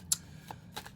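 Tarot deck being shuffled by hand, a few short crisp card riffles and snaps spaced apart, close and fairly quiet, with no talking.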